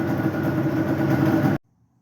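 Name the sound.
Yamaha Banshee ATV engine running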